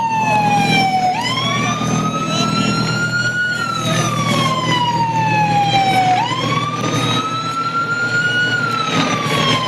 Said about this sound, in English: Somebody got to turn that siren off.